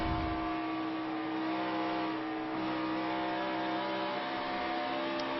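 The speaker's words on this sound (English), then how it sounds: "You could hear Danica having to play with that throttle just a little bit on late exit of turn 4" A NASCAR Sprint Cup race car engine drones at steady pitch during practice at Texas, a sustained buzzing hum with slight throttle variation on corner exit, moderately loud and continuous with no talking.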